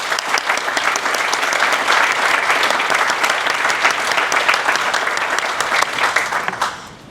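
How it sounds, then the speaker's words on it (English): A crowd applauds steadily and loudly for about seven seconds at the ribbon cutting of a hospital emergency department, then the clapping tapers off at the very end. "I think we deserve to clap right here"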